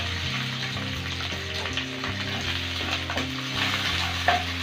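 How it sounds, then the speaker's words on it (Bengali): Shrimp fry in a pan with a continuous close sizzle and occasional stirring scrapes, steady throughout with a brief louder crackle near the end. "এখন আমি দিয়ে দিচ্ছি চিংড়ি মাছ। ভালো করে চিংড়ি মাছটাকে ভেজে নিতে হবে।"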